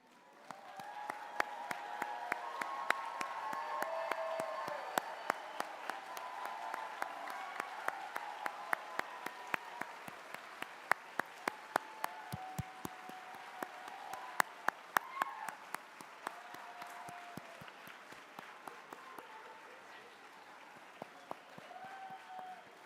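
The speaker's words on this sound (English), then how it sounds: "You deserve all of that applause and then some" An audience applauds competition finalists at a national invention convention awards ceremony. The applause is steady and sustained, with many distant hands clapping evenly throughout and sharper individual claps standing out here and there.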